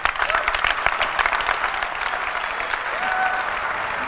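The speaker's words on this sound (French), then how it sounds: "ces gens qui applaudissent, ce sont des journalistes" Journalists applauding at an Apple keynote presentation, steady dense clapping from a large audience filling the room, continuous and fairly loud throughout.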